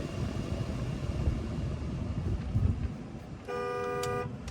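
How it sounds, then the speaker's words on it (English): A 2019 Ram 1500 Laramie pickup with a 5.7 V8 sounds its horn inside the cab: one steady, loud, harmonic blast of about a second near the end, following a stretch of low road and engine rumble. "There's the horn."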